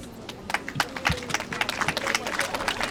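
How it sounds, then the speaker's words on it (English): Applause at a school time capsule ceremony: a short burst of scattered clapping from a modest crowd, fairly close and moderate in level, with a few louder claps standing out. "One more big round of applause for Ellery, our student council president, and our MC for the day"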